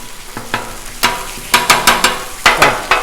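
Pork chorizo cooking on a Blackstone griddle, with a broad sizzle under a run of sharp scraping and clacking strokes, probably a spatula stirring the meat. The strokes come in a loose rhythm and sound close and fairly loud.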